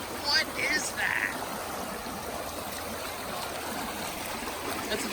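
Water flows in a creek with a continuous broad rushing wash, moderately loud and near, with a few brief bird-like chirps early on and no speech.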